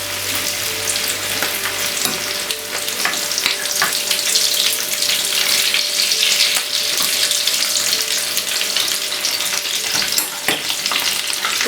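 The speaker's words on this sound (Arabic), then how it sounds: "الساعات غادي نحطوا طريفات ديال صدر الدجاج في الزيت ان شاء الله" Chicken breast pieces frying in hot oil, with a steady dense sizzle and crackle that stays loud and close throughout, and faint stirring and water noises in the background.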